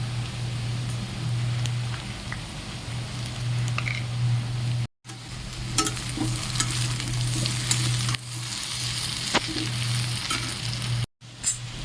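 Potatoes sizzle steadily in hot oil with panch phoron, salt and turmeric added, a continuous close frying hiss with faint stirring scrapes and two brief dropouts.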